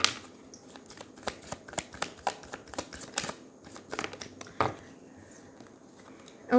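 Tarot cards being shuffled by hand in a quick series of crisp riffling snaps and soft flutters, close and fairly quiet, with brief pauses between bursts and no talking.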